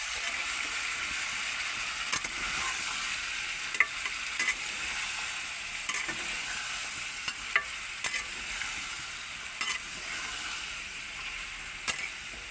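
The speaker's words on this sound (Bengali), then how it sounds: "ভালো করে নাড়িয়ে দেবো" Ridge gourd and potato in a poppy-seed curry stirred in a frying pan, a steady bright sizzle under repeated sharp spatula scrapes and clicks at an uneven rhythm, close up with no voices.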